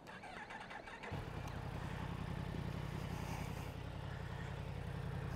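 A stationary motorcycle's engine heard from a helmet-mounted GoPro, catching and settling into a steady, loud idle drone that runs unbroken to the end.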